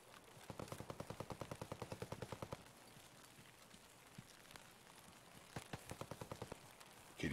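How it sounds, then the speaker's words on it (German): Distant automatic gunfire in Escape from Tarkov, faint and far off, comes as two quick rattling bursts of evenly spaced shots separated by a quiet pause. "die schießen da oben wahrscheinlich gegen Skeffs"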